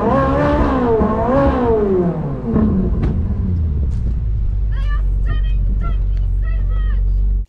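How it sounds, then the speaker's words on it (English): A Ferrari parks on a gravel area at the back of a venue, its engine a low steady rumble under a wavering, rising and falling tonal whine, followed by sharp chirping bursts near the end. "so we're just parking up in the gravel area at the back."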